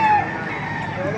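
A rooster crows briefly among gamefowl at a busy chicken market in Baliuag, Bulacan, in a short, loud call over steady outdoor background noise.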